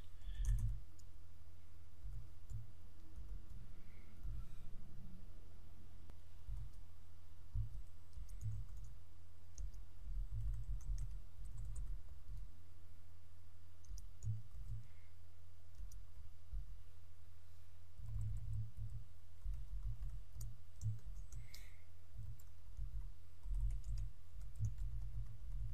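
Code being typed on a computer keyboard while writing a jQuery selector, a steady run of soft low keystrokes in bursts with short pauses, close and alone with no talking.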